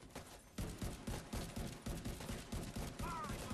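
Rapid automatic turret gunfire from The Division 2, sustained bursts of closely spaced shots hammering in a steady rhythm, loud and near, with a brief gap at the start before the firing resumes continuously.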